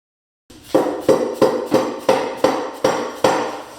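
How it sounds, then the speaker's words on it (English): Hammer tapping apart the split halves of a Porsche 958 Cayenne transfer case during disassembly: eight sharp, evenly spaced metallic knocks with short ringing decay, close and clear with no talk. "A few simple taps was all that was required to get it to come apart."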